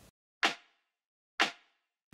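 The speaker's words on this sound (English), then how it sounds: "Then we've got a snare." Two separate house-track snare hits with a short roughened decay, loud and alone in an otherwise silent loop, with a third hit starting at the end.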